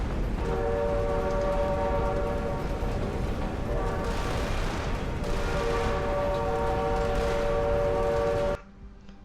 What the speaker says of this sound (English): I've added extra train sound effects. Let's listen to the horn.